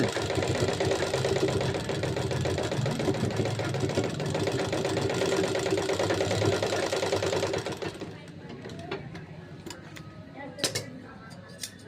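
Sewing machine stitching a nightie, a fast steady mechanical whir for about eight seconds close up, then stopping, leaving light clicks and handling noises.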